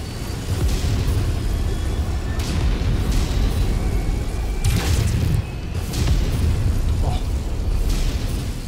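Mech weapons chain-fire in Mechwarrior 5: Mercenaries, unleashing a dense, continuous roar of booming blasts and explosions that barely lets up, loud and close throughout.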